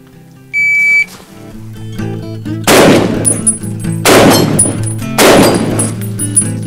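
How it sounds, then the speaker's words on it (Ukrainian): A semi-automatic shotgun fires three loud, sharp blasts at an outdoor shooting range during ungulate-hunting practice, about a second apart. A short electronic beep sounds first, and the reports ring out over a steady background. "давай зараз спробуємо з напівавтоматом і побачимо"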